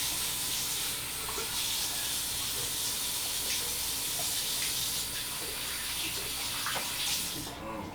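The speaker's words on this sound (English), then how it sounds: "Let me wash my hands real quick" Hands being washed under a running tap, a steady hiss of flowing water with faint splashing, close and continuous for several seconds.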